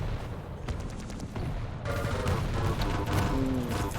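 Rapid gunfire in a 2v2 team deathmatch arena shooter, with dense machine-gun bursts and rocket-launcher blasts rattling continuously and loudly in the foreground over four seconds.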